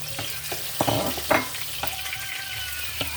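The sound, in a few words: onion and garlic sautéing in a pan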